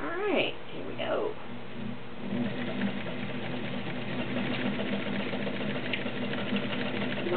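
A green and cream pearl Retro Dressmaker heavy duty sewing machine stitching steadily, a smooth continuous mechanical whir heard close up, with a person talking over it at the start.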